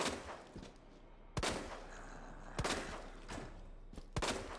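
Gunfire in a zombie video game: three or four sharp, loud shots spaced about a second apart ring out over a dull background rumble.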